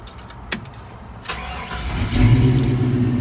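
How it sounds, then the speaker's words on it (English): A few clicks, then the Vortec V8 of a 1970 Chevrolet C-10 short-bed pickup turns over and catches, settling into a steady low idle up close. "Turns right on. Got a nice smooth idle."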